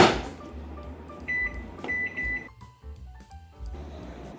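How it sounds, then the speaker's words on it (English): A microwave oven heats V8 juice agar media for fungus cultivation: a steady low hum runs throughout, with several short electronic beeps partway through and brief quieter gaps before the hum resumes. "I don't know if microwaving will help anything, but I'll just do that. 2 minutes."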